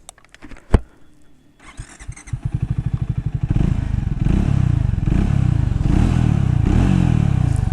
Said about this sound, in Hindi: बहुत ही बेसी बूमी सा एग्जॉस्ट है, पैसे वसूल एग्जॉस्ट।